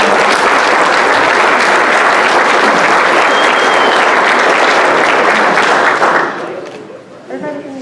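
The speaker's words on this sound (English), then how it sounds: "Round of applause for our" An audience at a county 4-H achievement night gives a loud, dense round of applause that holds steady, then drops off abruptly near the end, leaving a few voices talking.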